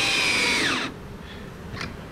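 A power drill set to drill mode rather than clutch torque whines loudly at high speed through a wooden night stand door jig with a long bit, then winds down and stops, leaving faint room noise.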